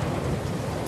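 A thunderstorm in the video game The Last of Us Part II, heavy rain pouring with a deep rumble of thunder rolling underneath, loud and continuous throughout the short stretch.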